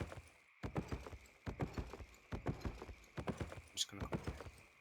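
Rhythmic horse hooves clip-clop steadily in the Albion Online video game, mixed with player voices chatting over them throughout.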